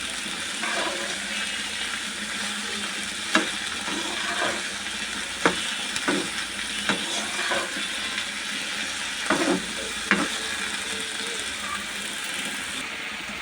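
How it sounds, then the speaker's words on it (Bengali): Mixed vegetables frying in a pan with salt, crackling steadily with scattered scrapes and clinks as a spoon stirs them, close by. "সবজি ভাজিটা আমি ভাজা ভাজা করে নিয়েছি, খুব ভুনা ভুনা হয়েছে।"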